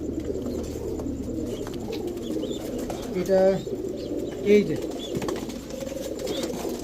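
Pakistani royal teddy pigeons, young birds kept by a breeder, give two short, close coos a second apart amid steady background noise, with someone speaking nearby.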